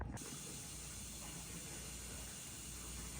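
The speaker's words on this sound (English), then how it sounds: "as you can hear, this air conditioning unit isn't quiet" A noisy hotel room air conditioning unit at the Candlewood Suites in Times Square, New York City, gives off a steady, loud, unbroken hiss and whoosh with a low rumble.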